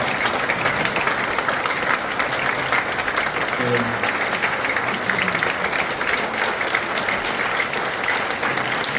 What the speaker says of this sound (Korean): 자, 다 함께 일어나셔서 여러분 박수 맞아주시면 고맙겠습니다